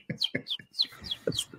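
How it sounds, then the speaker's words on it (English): Several birds chirp in quick, close bursts of short bright tweets, about half a dozen calls in rapid succession with brief gaps between them. "where are those fucking birds?"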